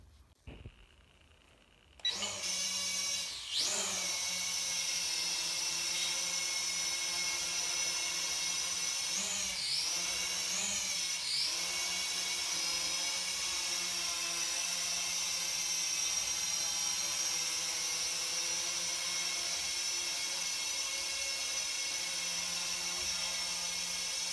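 A cheap toy drone, bought for about 600 baht, spins up its propellers and lifts off indoors, a steady high whining buzz that holds loud and close with small wavering pitch shifts and no voices.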